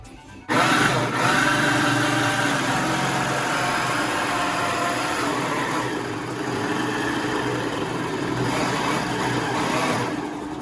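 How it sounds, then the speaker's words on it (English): An electric grater shreds carrots for a Christmas cake, its motor whirring loud and steady from just after the start to the end, with a rough grinding texture throughout. "We can use a classic grater, but it's better an electric grater because it's faster."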